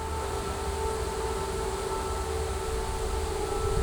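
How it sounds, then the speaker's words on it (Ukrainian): An air raid siren wails steadily throughout, a loud sustained tone with a steady drone beneath, with no speech over it. "А знову повітряна тривога"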